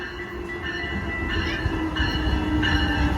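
A train rumbles past at Glenview, Illinois, with steady wheel roar and metallic rail squeal rising and falling, heard from trackside at moderate distance with no voices.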